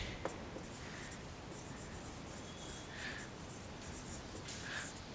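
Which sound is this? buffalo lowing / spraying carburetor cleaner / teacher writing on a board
teacher writing on a board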